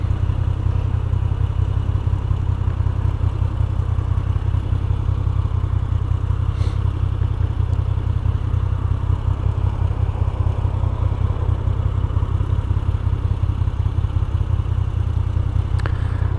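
A 2021 Moto Guzzi V7 850 motorcycle cruises through city streets, its engine throbbing in a steady, low, continuous drone with wind rush, unbroken for the whole stretch and with no voices.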